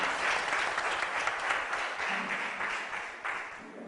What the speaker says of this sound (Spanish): Un aplauso a Piedad Córdoba.